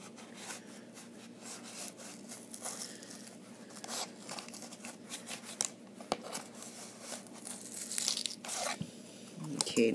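The plastic wrap on a boxed Tomb Raider Chronicles PS1 game gets cut and torn open, giving repeated crinkling, ripping and scraping bursts. They are irregular, close and grow busier toward the end.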